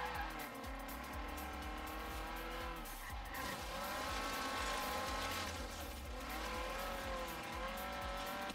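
A car driving in the racing video game Forza Horizon 3, its engine droning and revving continuously with shifting pitch and occasional tire squeal, loud and close with no talking.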